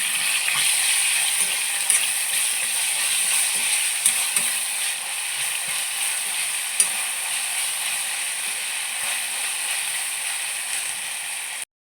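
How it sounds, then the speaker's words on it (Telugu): Ginger garlic paste frying in a pan for a drumstick masala curry, a steady bright hiss of hot oil with a few faint clicks of stirring, close and continuous throughout. "అల్లం వెల్లుల్లి పేస్ట్ వేసేసుకొని పచ్చివాసన పోయేంత వరకు ఫ్రై చేసుకుందాం"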